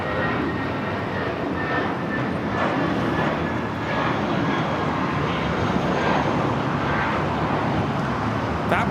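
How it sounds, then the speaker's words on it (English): A Spirit Airlines A320 takes off at LAX, its jet engines a loud, steady, broadband roar that holds for the whole stretch, with no voices over it. "That was Spirit 840 taking off to Houston Intercontinental on the A320."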